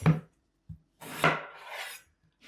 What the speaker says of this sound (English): this knife will go right through this potato without any problem